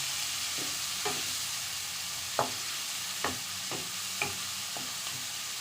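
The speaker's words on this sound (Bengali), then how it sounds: "এই সময় আমি বলছি পেঁয়াজটাকে ভালো করে কষাতে হবে।" Onions sautéed in a pan as the base for a katla fish curry, a steady hissing sizzle under regular spatula strokes that scrape the pan about once a second.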